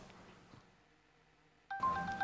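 A quiet room, then a sudden electronic phone tone begins near the end, loud and steady, with a beeping pitch pattern.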